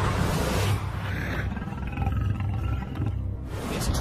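A lion roars in the wild, a deep, loud, sustained roar with rumbling grunts that fills the whole stretch close up.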